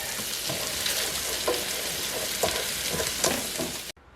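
Bacon and baked beans sizzling as they cook for a BBQ baked beans dish, a steady close frying hiss with scattered pops and crackles throughout, no talking, cutting off abruptly near the end.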